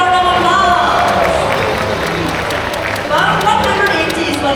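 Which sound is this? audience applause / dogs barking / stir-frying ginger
audience applause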